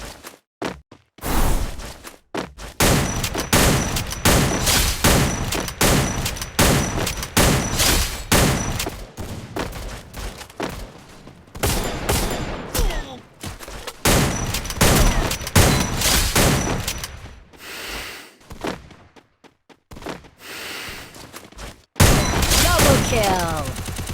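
Mobile shooter game gunfire from an M590 shotgun and sniping, with rapid repeated loud shots and quick reload clicks in dense bursts, separated by brief pauses, with a voice commenting over the action.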